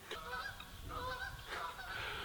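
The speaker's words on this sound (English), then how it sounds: "Those are the geese." Geese honk repeatedly in a loose chorus, faint and somewhat distant, with no talking.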